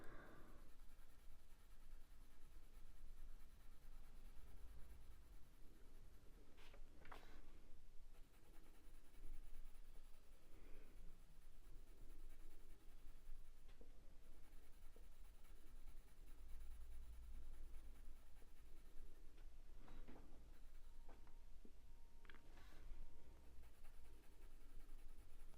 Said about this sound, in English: so that's what I'm doing with the pencil.